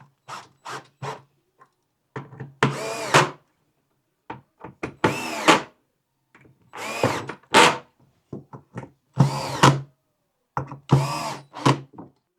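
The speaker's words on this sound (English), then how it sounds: "An optional drill can be used." A cordless power drill runs in several short bursts while tightening the bolts on a heavy-duty shower chair, with whirring spurts separated by pauses and lighter clicks and handling noises between them.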